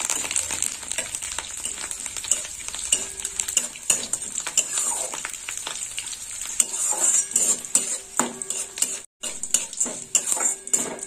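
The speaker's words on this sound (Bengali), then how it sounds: "এই ফোড়নটা ভাজা হয়ে গেছে" A tempering of chana dal, green chillies and curry leaves crackles in oil for curd rice, stirred close up with frequent metal spatula clinks and scrapes on the pan over continuous sizzling; nobody speaks.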